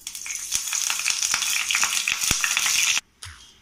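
Curry leaves crackle and sizzle as they hit hot coconut oil, a dense close spitting hiss with sharp pops, stopping abruptly near the end before a faint stir.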